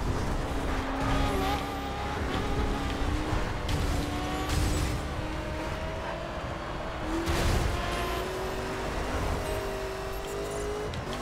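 Racing car engine drones steadily with rising and falling pitch as the car corners in a racing video game, tires squealing and skidding repeatedly, loud and continuous with no voices.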